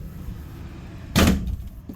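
Inside a 2020 Alpha Wolf 26 RL camper, a sliding bathroom door closes with a single sharp thud over a low background hum, followed by a faint softer knock.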